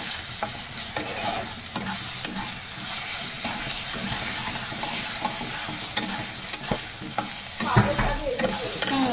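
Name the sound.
frying mango pieces in a pan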